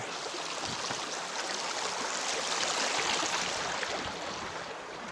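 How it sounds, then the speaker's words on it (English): Steady rushing water flows continuously, a broad, even hiss of a stream heard up close with no voices. "Another stream crossing, y'all."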